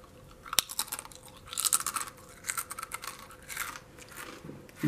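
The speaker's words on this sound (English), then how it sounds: "I like the crunch of the chip." Crunchy bites and chewing of kettle-cooked salt and cracked pepper Lay's potato chips, close to the mic, with irregular crisp crackles over several seconds and no talking.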